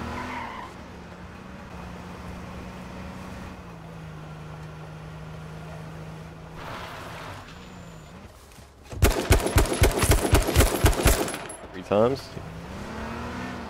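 Police car in the video game H1Z1 droning along at a steady engine pitch, then a loud burst of tire skidding and squealing, with someone speaking briefly.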